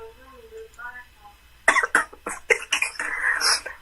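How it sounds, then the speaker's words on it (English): A short stretch of voice, then a burst of several harsh, close coughs in quick succession, ending in a rougher, drawn-out hack. "My grandma hear me coughing."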